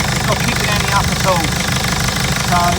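Mercedes Sprinter 311 CDI diesel engine idling while warming up after injector leak repair, a close, continuous rumble with a steady knocking pulse and no breaks.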